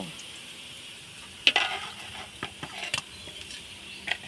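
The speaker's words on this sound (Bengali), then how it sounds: "বেরেস্তাটাকে আমার ভাজা হয়ে গিয়েছে এবার আমি তুলে নেব" Gentle sizzling of refined oil as onions fry crisp, with a few sharp scrapes and clinks of a utensil against the pan, spaced irregularly over a few seconds.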